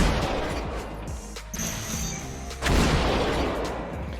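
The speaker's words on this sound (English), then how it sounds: "that's a big explosion" A loud Void Cannon explosion in the video game Diabotical booms out over a dense, noisy mix of game sound effects, with a heavy blast rising near the end.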